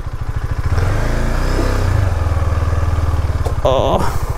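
Motorcycle engine thumping steadily up close as the bike is ridden slowly over rough, uneven ground near George Fort in the Vizag district, the pulsing exhaust continuous throughout with a brief clatter near the end.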